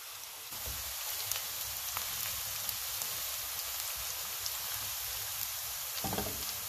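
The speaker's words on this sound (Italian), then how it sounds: "Aggiungiamo la cipolla. La lasciamo dorare per 2 minuti." Onion browning in a hot pan gives a steady, close, even sizzle with fine crackling pops, a faint stir at the start and a small clatter near the end, no voices.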